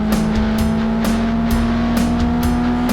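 Ford Fiesta ST150 Mk6 on track at Castle Combe, its engine droning loud and steady with a strong constant tone, overlaid by sharp recurring ticks or clicks every half second or so, no voices.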